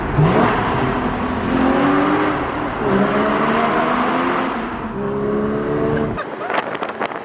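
A loud sports car engine revs in a tunnel and climbs through the gears, roaring with a booming, echoing tone, then drops away sharply near the end.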